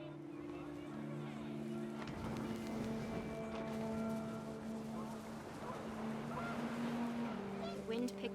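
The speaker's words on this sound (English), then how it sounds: "panicked geese appeared and quickly went" Panicked geese honking in the video game What Remains of Edith Finch, a jumble of calls over a steady droning background, moderately loud and continuous.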